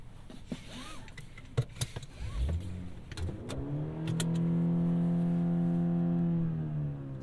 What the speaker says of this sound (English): It's a smooth motor.